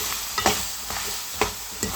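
Ground masala paste being stirred into frying country chicken in a village-style curry pan: a continuous bright sizzle with a few rhythmic scraping strokes of a spoon, close and alone without talk.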